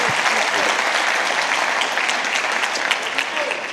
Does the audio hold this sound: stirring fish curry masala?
no